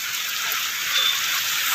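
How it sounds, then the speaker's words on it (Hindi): Heavy rain falls over open farm fields, heard from shelter under a tree as a dense, steady hiss with no breaks. It sounds close and fills the whole scene. "वहाँ पे पहुँच गए थे जहाँ पे तेज़ी से बारिश हो रही है, तेज़ बारिश हो रही थी"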